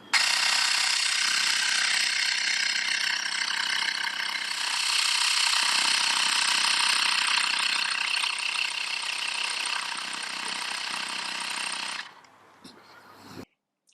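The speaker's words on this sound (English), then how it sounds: "So this is a great little pump that works really well." A Xiaomi Mi electric pump inflating a motorbike tyre, buzzing in a loud steady drone for about twelve seconds before cutting off, with a brief clatter after it stops.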